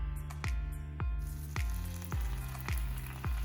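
Lobster roll buns or food searing on a hot griddle, with a steady quiet sizzle overlaid by regular sharp ticking or tapping about every half second, no talking.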